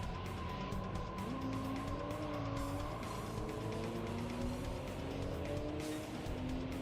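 Engine note of a car racing down a road in a video game, past a Honda NSX among rival cars, steady and loud throughout, its pitch climbing and dropping as the gears shift, with faint tire noise underneath.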